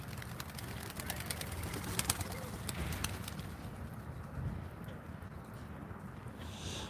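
Small birds, pigeons or doves, gathering at sundown in Sedona, Arizona, with steady outdoor ambience and scattered short calls and flutters throughout, moderately distant, no talking.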